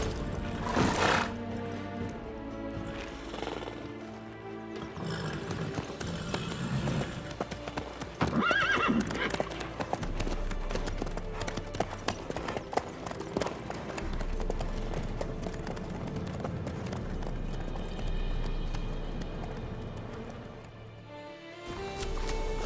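Horse hooves clip-clopping at a steady trot in The Witcher 3: Wild Hunt, close and continuous, with whinnies and a game music score underneath and occasional speech.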